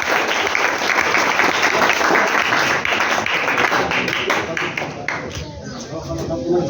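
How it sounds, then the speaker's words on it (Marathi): A steady, dense round of audience applause, many hands clapping continuously at close range with some voices mixed in, easing off slightly toward the end. "अरे टाळ्या वाजवा"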